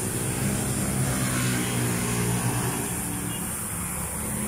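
Traffic on a roadside in Cabuyao, Laguna, a continuous loud rumble of engines and tyres from nearby cars passing steadily, with no clear gaps and no talking.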